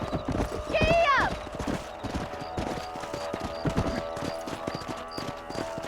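Horse in a video game gallops with quick rhythmic hoofbeats, opening with a loud whinny, the clip-clop steady and close throughout.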